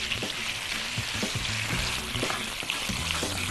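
Onions and chicken drumsticks fry in a pan for a chicken and orzo dish, giving a continuous close sizzle with scraping stirs repeating over it.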